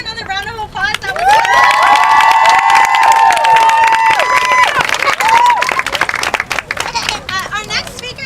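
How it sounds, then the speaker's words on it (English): Rally crowd outside the Oregon State Capitol applauding and cheering for a speaker, with loud sustained whoops and shouts over clapping and background chatter before it gradually settles. "let's go ahead and give her another round of applause."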